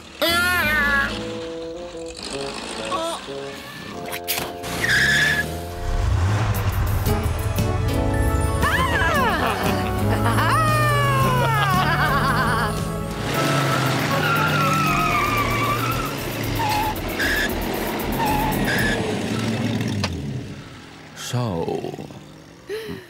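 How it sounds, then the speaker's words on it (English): A car in an animated Mr Bean cartoon revs loudly, skids and drives off over about twenty seconds, with tire squeals and engine roar mixed with music and voices. "I take you for a ride in my car"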